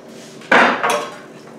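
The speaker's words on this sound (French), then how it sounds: "après avoir bien coupé les vermicelles, dans le saladier, je vais tout verser" Cut vermicelli and other nem filling ingredients tipped into a salad bowl make a sudden close clatter and thump, then a second softer tumble that fades out.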